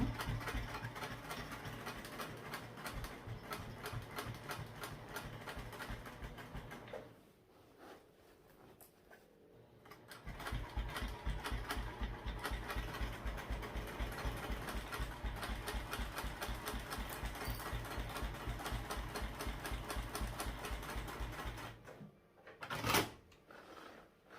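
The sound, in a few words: sewing machine stitching a backpack seam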